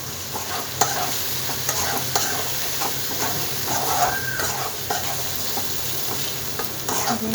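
Chili powder, turmeric and spices sizzling in a hot pan while a spoon stirs them, steady frying crackle with scraping stir strokes close by, no talk.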